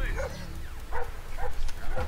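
Dogs in the stealth game Splinter Cell Blacklist bark in several short, evenly spaced yelps amid game noise, with someone talking over them.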